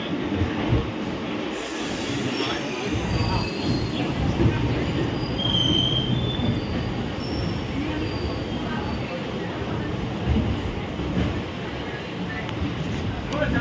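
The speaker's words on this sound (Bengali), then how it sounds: "ট্রেন কিন্তু ছেড়ে দিল কলকাতা স্টেশন।" The Kolkata–Puri Special Train 03101 pulls out of Kolkata station with a continuous heavy rolling rumble, heard from on board, and thin high wheel squeals rising over it now and then.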